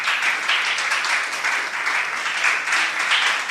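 A church congregation applauds, a sustained wash of many hands clapping that fills the room steadily, loud and unbroken with no voices rising above it.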